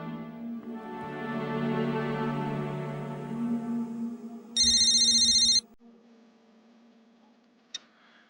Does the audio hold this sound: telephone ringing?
yes